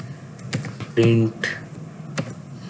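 Keyboard shortcuts pressed on a computer keyboard while writing Python code, a few sharp key taps spread over a couple of seconds with a voice talking over them.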